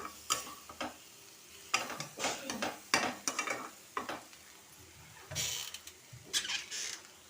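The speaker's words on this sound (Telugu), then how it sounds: "కొంచెం బాగా 5 మినిట్స్ వేపుతున్నాను" Capsicum keema fries on a low flame and is stirred repeatedly, with soft sizzling beneath irregular scraping and clattering strokes in the pan, close and moderately quiet.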